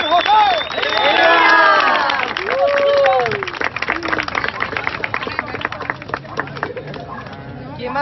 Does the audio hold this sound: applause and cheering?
yes